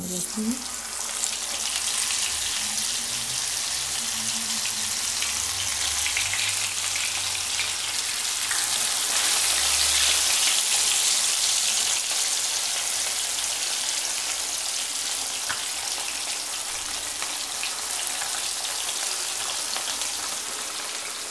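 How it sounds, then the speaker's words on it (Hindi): Fish sizzles steadily in hot oil on a tawa griddle over high heat, a loud, continuous crackling hiss that fills the whole stretch without letup. "अभी हम मछली को जो है वो फ्राई करते हैं"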